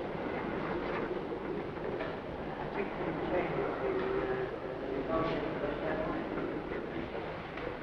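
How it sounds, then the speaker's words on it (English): The North Briton train rumbles steadily as it rolls into York station in 1953, with a dense, constant roar and faint wheel clatter, and muffled voices faintly audible underneath. "There's the North Briton coming in now."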